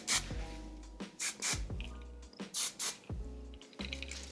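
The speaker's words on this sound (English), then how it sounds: "best way to use hairspray for your curls is to make sure you're spraying up into the root, into the mid shaft." Aerosol hairspray misted up into the roots and mid-shaft of curled fine hair: several short, close hissing bursts with brief pauses between them, over faint tonal background sound.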